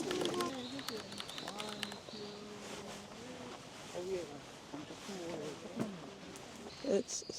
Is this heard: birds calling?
yes